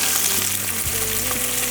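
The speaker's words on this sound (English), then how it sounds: "Throw your onion in there. Watch out for your little fingers. And see it's sizzling" Steady, dense sizzling of onions frying in hot oil for a shrimp and okra gumbo, loud and close, with a few faint clinks or stirring sounds.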